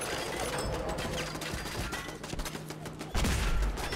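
Heavy weapon fire in the video game Fallout 4: a dense, continuous crackle of shots and mechanical clatter, ending in a sudden louder, booming blast that holds through the last second.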